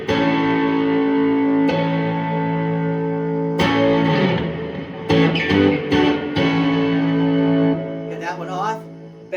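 Electric guitar on the front pickup played through an old pedal board with distortion, sustained chords ringing out with bright harmonics and a few sharp new strikes, close and loud.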